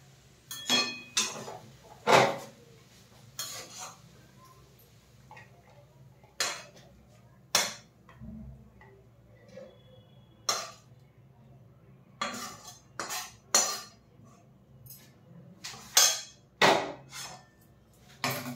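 Metal utensils clink and knock against a pan as cooked noodles are poured out, a run of sharp separate impacts with short quiet gaps between them, close and fairly loud, with no talking.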